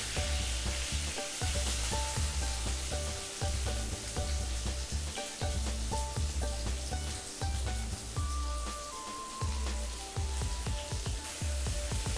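Okra and broken green chilies fry in a pan with a steady, close sizzle, broken by frequent scraping and stirring knocks throughout, with no voices.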